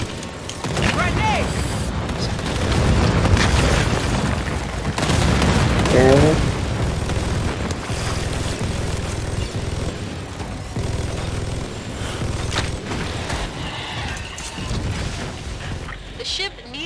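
Heavy booms and explosions, including a grenade blast, from the co-op dinosaur shooter Second Extinction, set amid loud continuous gunfire and rumbling combat, with players talking over the din.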